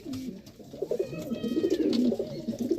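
Madras pigeons kept at a home coo softly and nearby, their low, throaty calls rising and swelling over the few seconds with faint chirps mixed in.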